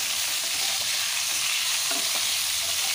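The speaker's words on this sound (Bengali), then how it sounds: "মূলোটাকে বেশ লাল করে চাপা দিয়ে দিয়ে নরম করে ভেজে নেব।" Radish frying in a pan over tempered spices, a steady bright sizzle with a few soft scrapes of stirring close by and no talking.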